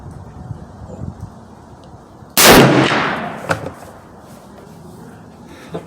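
A single Henry 45-70 Government rifle shot cracks out sharply outdoors at a 50 yard range, followed by a long fading echo and a faint thud, with quiet ambient noise before and after.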